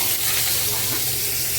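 Onion paste hits hot mustard-oil-style frying oil already used for frying pointed gourd with whole garam masala, giving a steady, close, broad sizzle that holds evenly without talk.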